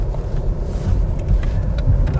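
Interior road noise from a cheap SEAT Leon on a test drive, with a steady low engine and tyre rumble and some wind buffeting, continuous and fairly loud with no talk.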